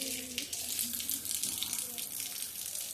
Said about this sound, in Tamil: மதுரையில் நல்ல மழை அடிச்சு ஊற்றிக்கிட்டு இருக்கு.